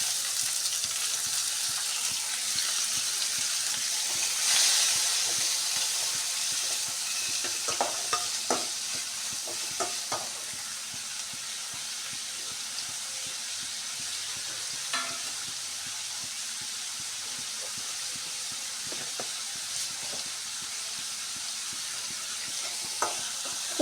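Dried red chillies and onion fry in a pan, a steady soft sizzle with intermittent light stirring scrapes and taps, fairly quiet and close, with no speech.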